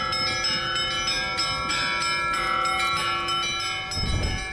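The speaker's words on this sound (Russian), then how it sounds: "Раздался колокольный звон." Church bells in Kaliningrad ring out at a funeral as a coffin leaves the church, in a continuous layered peal of struck tones that carries clearly and steadily, with no voices.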